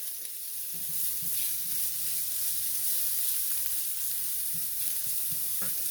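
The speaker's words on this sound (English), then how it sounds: "Let my onions soften up" Onions soften in a hot pan for a crustless spinach quiche, sizzling in a steady, close hiss with occasional faint stirring knocks and no voices.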